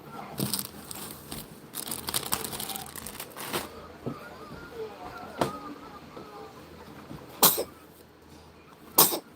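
A person sneezes, with sharp, loud bursts standing out near the end against quieter rustling, a few softer coughing sounds, and some murmured talk in the background.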